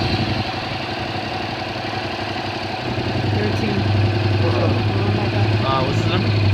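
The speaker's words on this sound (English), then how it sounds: "So I'm gonna start the bike now" A motorcycle engine with a rectifier under test runs at a steady idle nearby, a continuous low, throbbing rumble with faint background voices.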